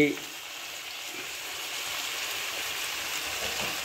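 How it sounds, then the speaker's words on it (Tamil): Curry leaves, mint and coriander with tomato sizzle gently in a pan, a steady soft crackling hiss that holds level throughout, with no voices. "எல்லாத்தையும் சேர்த்து நல்லா வதக்கிக்கிங்க"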